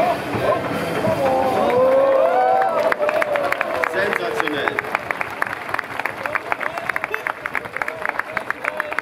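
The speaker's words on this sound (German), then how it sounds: "Wir klatschen Beifall mit begeisterter Hand" A crowd at the Elbhangfest street festival in Dresden claps, the applause building into steady, loud rhythmic clapping after a voice speaks over the opening seconds.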